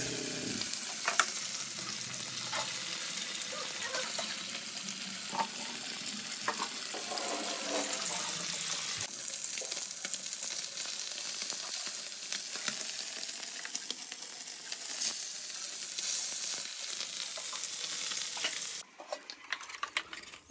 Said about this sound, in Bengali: আর এই মাছগুলো ভাজা আমার হয়ে গেছে